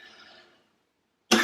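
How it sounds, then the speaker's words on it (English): A faint breathy sound fades out, then after a short silence a single sharp cough bursts in close and loud at the end. "Coughing some more"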